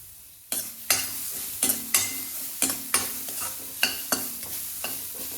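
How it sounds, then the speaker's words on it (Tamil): Grated coconut, about three-quarters of a cup, dry roasting in a bare kadai, stirred with a spatula that scrapes the pan in a steady series of about ten sharp strokes over a soft sizzle, close and alone. "ஒரு கடாய் வச்சாச்சு இதில் ஒரு முக்கால் கப்பு அளவுக்கு தேங்காய் துருவேன் வெறும் வானல்லையே தான் அதை போட்டிருக்கேன்"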